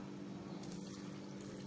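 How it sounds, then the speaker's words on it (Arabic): Water pours steadily into a bowl of dough being mixed with a wooden spoon, a soft continuous trickling and gushing, close and fairly quiet. "نزيد لها الماء"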